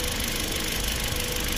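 A Hyundai i20 with a 16-valve petrol engine idles in a steady, even drone, close and continuous with no breaks and no talk over it.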